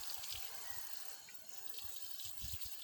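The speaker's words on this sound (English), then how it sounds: "the first time you plant these, you want to water them from the top" Water splashing steadily from above onto soil in self-watering planter buckets, a continuous close rushing hiss with soft low patters.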